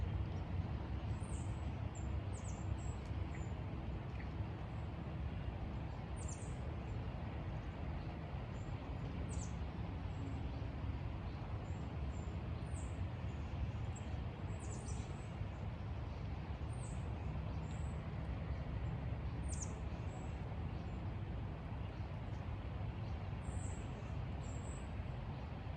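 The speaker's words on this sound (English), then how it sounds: "Hear the breeze, the birds." Small birds chirp faintly and intermittently in the distance outdoors, their brief high calls scattered over a constant soft breeze.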